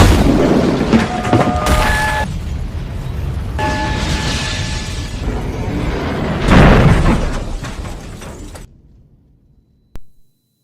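A deep bomb explosion boom with rumbling noise rises out of a loud, turbulent background, then everything falls nearly silent except one last sharp thud.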